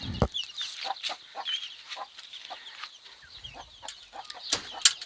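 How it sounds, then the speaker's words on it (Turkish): Soft, repeated clucking from a hen mixed with high, rapid peeping of chicks, close by, with scattered rustling in between. "Burada da farklı başka bir tavuk ve civcivleri var."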